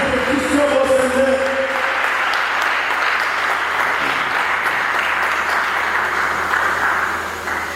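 Sustained applause from a conference debate audience fills the room, dense and loud throughout, then tapers slightly at the very end.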